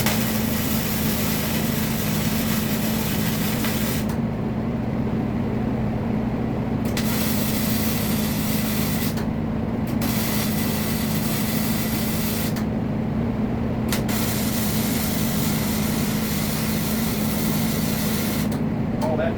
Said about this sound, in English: And yes, I'm welding with flux core wire.